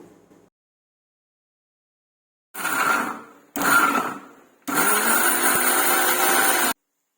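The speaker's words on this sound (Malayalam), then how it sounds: "രണ്ട് തക്കാളി എടുത്ത് അത് മാത്രം അരിഞ്ഞ് മിക്സിയിലിട്ട് അരച്ചെടുക്കേണ്ടതാണ്" A kitchen mixer grinder blends chopped tomatoes in three loud, steady bursts with short pauses between them, the last run the longest, and no one speaks.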